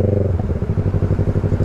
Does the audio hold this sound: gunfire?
no